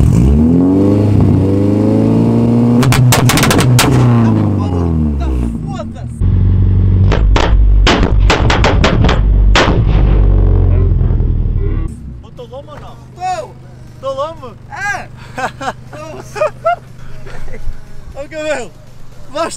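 A car revving hard with loud exhaust backfire pops, the engine roaring up and down before a run of sharp bangs, with people talking and cheering nearby.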